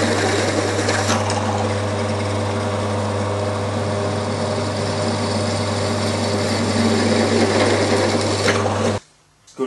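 A 10.5mm power drill runs steadily at high speed for about nine seconds, a loud continuous whine and hum, then cuts off abruptly.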